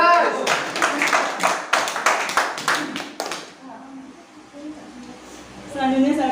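An audience at a supervisor inauguration ceremony for a business office in Mojokerto breaks into dense, lively applause and cheering for about three seconds. It then fades into quieter murmuring, and a voice speaks near the end.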